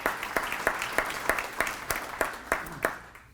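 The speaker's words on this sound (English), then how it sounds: "So I'm going to clap for that because I think that's really important." At an honor-roll award ceremony, steady rhythmic hand claps ring out at an even pace of about three per second, close and moderately loud, without cheering.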